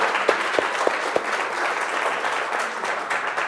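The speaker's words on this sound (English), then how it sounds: "let's give a round of applause to our guests today." Audience clapping for guests at a professional women's community event, a dense, steady burst of applause from a room of people lasting a few seconds with no talk over it.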